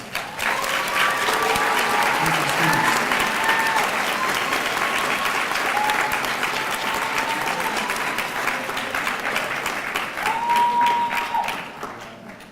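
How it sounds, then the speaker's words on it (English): Loud, sustained applause from a crowd at a student recognition ceremony, dense clapping throughout with a few voices calling out, tapering off at the end. "Let's give these students one more round of applause."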